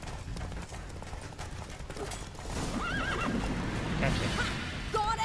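A horse in the video game The Witcher 3 gallops with a rapid clip-clop, then gives a couple of clear, high neighs over the hoofbeats and a steady rush of game ambience.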